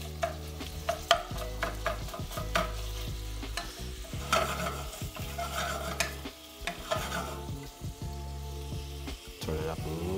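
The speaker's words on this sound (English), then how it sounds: "I like to break it up with a wooden spoon" Ground meat browns in a pan while a wooden spoon breaks it up. The scraping and stirring knock in irregularly under a steady sizzle, with close, busy clatter throughout.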